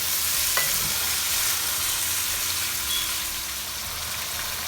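Pork browning with chili and turmeric in a hot pan for vindaloo, a loud continuous close sizzle with a faint stir or scrape early on.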